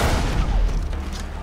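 A loud, close explosion in the video game Far Cry 3, a deep booming blast with rumbling debris that fills the moment and then tails off, with no voices over it.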